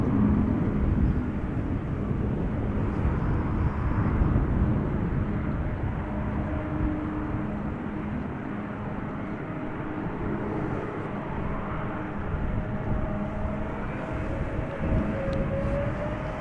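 An SAS Airbus A320neo passenger jet departing Amsterdam Schiphol Airport, a broad continuous engine roar at a distance that holds steady throughout with a faint tonal whine.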